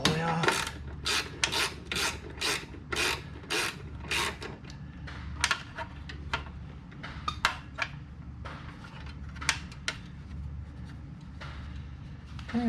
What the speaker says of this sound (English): Let's just go ahead and ratchet this all the way off